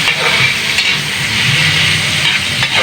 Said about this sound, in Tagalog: Hintayin maluto ng kamatis, ilunod dayon ang itlog.